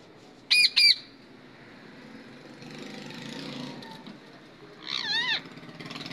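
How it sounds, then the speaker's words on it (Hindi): A pet parrot pair lets out two sharp, loud squawks near the start, then a quieter stretch with a low hum before another harsh, wavering squawk near the end. "मेरा तोतार तोती का वीडियो है, अभी तक जोड़ी नहीं बना।"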